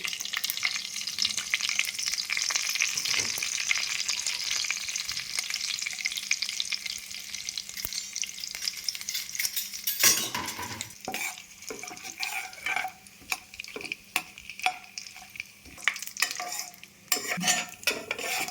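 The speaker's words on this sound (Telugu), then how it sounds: "మసాలా దినుసులన్నీ కొంచెం ఫ్లేవర్ వచ్చినాయండి, వేగినాయి" Whole spices (cinnamon, cloves, cardamom, marathi moggu, shahi jeera, bay leaf and mace) fry in hot oil for bagara rice, a steady close sizzle that turns to broken hiss with sharp scraping stirs in the second half.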